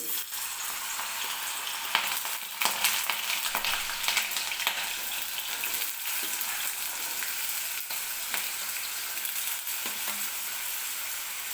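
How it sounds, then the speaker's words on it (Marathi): Potato pieces go into hot oil in a kadhai and fry with a continuous bright sizzle, crackling quietly up close, along with occasional stirring clinks and no talking. "तर तेलसुद्धा गरम झालेलं आहे तर आपण बटाटा टाकून घेऊया तेलामध्ये"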